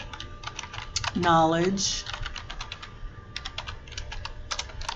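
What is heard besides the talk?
typing on a computer keyboard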